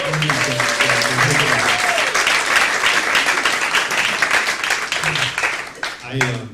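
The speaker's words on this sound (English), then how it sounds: "So let's give a round of applause for all the" Steady, loud applause fills the room at a stand-up comedy show at the Camino Real Playhouse, with cheers and voices rising over the clapping from start to finish.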